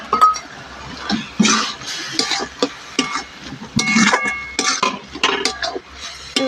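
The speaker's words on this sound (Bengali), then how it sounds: "ভালো করে এগুলোকে কষে নিতে হবে" Salt, ground ginger, cumin and chili are stir-fried with greens in a metal pot, giving a steady run of spatula scrapes, clinks and knocks against the pot at close range.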